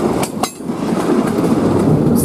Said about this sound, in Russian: Паровоз дымит, рельсы тянутся в необозримую даль